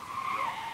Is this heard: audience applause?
no